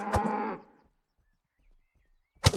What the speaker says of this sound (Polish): prowadzimy tutaj krowy